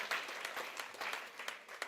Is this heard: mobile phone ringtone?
no